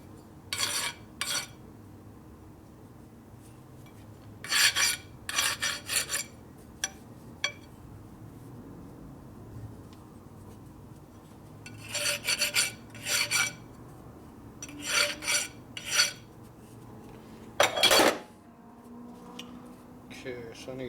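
Burrs are filed off a metal part with short rasping strokes in scattered bursts, close but moderate in level, separated by quiet stretches.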